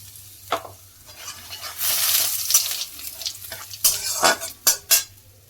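Asafoetida and cumin seeds sizzle in hot oil in a wok while peas kachori filling is cooked, with bursts of frying crackle, a few sharp spoon-and-pan clinks near the end, and no talking.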